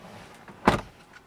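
Electric folding door mirrors on a Skoda SUV with a 1.4 TSI petrol engine whir briefly in one short, fairly quiet burst inside a still car.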